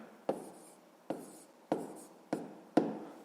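A pen or pencil writes a math sum by hand on paper in five short, evenly spaced scratchy strokes, close and quiet, with no talk over them.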